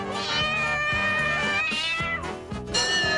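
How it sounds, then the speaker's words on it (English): A cat meows repeatedly while playing ping pong, a run of close, loud, tonal meows and caterwauls following one after another without pause. "the cat, who perfected the art of playing ping pong"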